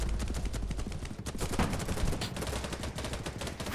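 Rapid bursts of gunfire in BattleBit Remastered crackle continuously, dense overlapping shots with a loud, steady intensity throughout.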